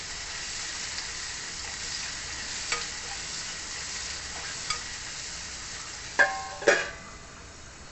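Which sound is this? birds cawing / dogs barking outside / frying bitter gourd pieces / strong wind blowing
frying bitter gourd pieces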